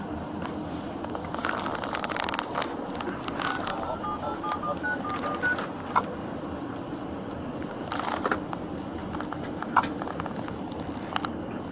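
A telephone being dialed, recorded on a police body-worn camera, gives a short run of touch-tone beeps midway through, set against steady outdoor background noise with occasional footsteps and clatter.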